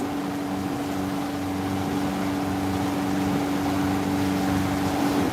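Boat engine droning steadily while cruising on the Intracoastal Waterway in Fort Lauderdale, a constant low hum with tonal whine and wind or water wash, no break in the sound.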